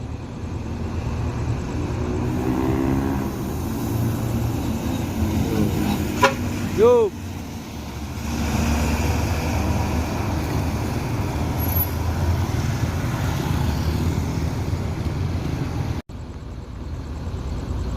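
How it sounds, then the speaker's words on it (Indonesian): ANS bus pulling into Solo bus terminal, with a rumbling engine and roadway noise, a brief horn toot in the middle and voices nearby. "Ini bus ANS yang keempat masuk terminal Baris Solo"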